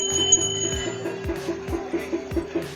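Many temple bells in a Kumaon hill shrine ring in overlapping metallic strikes, several sharp hits with lingering tones, close and fairly loud with no talking.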